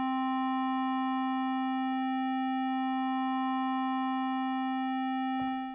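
A Krakli S4 synthesizer holds a steady tone as frequency modulation is brought in, adding layered overtones; the sound is continuous and fairly loud, with a brief click near the end and no voices.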